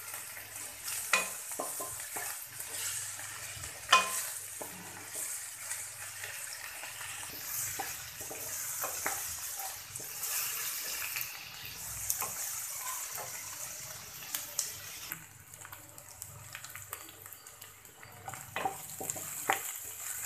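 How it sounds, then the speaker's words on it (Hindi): Chopped onions fry in hot oil in a pan, giving a continuous close sizzle for around twenty seconds, broken by occasional clinks and scrapes of stirring. "अब एक पैन में तेल चढ़ाएं। पैन हमारा गर्म हो चुका है। इसमें हम डाल देते हैं प्याज,"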